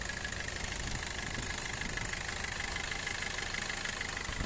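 A 2018 Maruti Suzuki Brezza VDI diesel engine idles with a steady, even rumble and faint ticking, close and constant throughout, with no talk.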